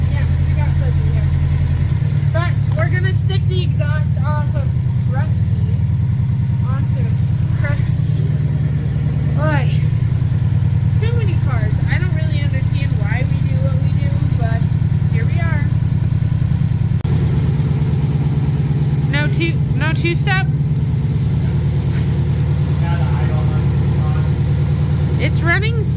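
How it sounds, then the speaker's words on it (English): A car engine idles steadily with an exhaust leak at the gasket between the catback and downpipe, giving a constant low rumble, and voices talk over it throughout. "Oh no, we do have an exhaust leak."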